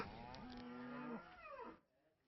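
A dairy cow gives one long, low moo close by that rises in pitch at its end, then fades into faint quiet background.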